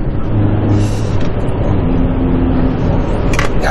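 A Hyundai Veloster N accelerates hard through a 0–100 km/h run, its engine roaring loud and continuous inside the cabin with a steady, rising drone.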